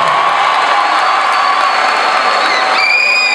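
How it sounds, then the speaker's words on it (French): A concert crowd cheers and whoops loudly at a show in Yaoundé, a dense roar of voices with shrill whistles and yells rising near the end. "Applaudissez pour ça"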